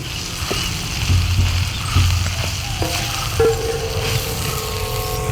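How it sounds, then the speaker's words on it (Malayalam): A spoon stirs bitter gourd roast with turmeric powder in a pan, giving soft intermittent scraping and light sizzling over a steady low hum, with a few faint clinks. "ഇത് നന്നായിട്ട് ഇളക്കി യോജിപ്പിക്കുക."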